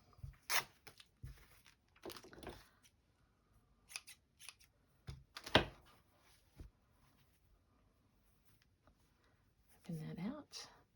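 Scissors trimming a fabric scrap for a slow-stitching project, a handful of sharp close snips spaced irregularly, with a soft voice speaking briefly near the end.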